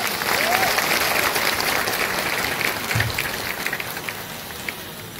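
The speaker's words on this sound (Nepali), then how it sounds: "ताली बजाइदिनुहोस् न एकपल्ट" An audience claps at a worship gathering in Namchi, making a dense, continuous wash of applause that holds steady and fairly loud throughout before easing slightly toward the end.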